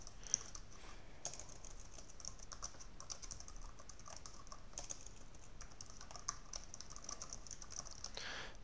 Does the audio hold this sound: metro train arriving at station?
no